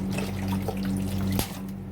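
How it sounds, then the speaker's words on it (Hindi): Water is poured into a cooking pot to cover pieces of watermelon rind for tutti frutti. A steady, close trickling pour runs for about two seconds over a low background hum. "पानी डालेंगे इसमें जिससे पानी में ये"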